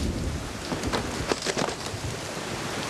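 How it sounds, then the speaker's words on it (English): Steady rain pours down outdoors, a dense continuous hiss with scattered heavier patters, heard alone with no voices. "Get these damn boxes out of the rain."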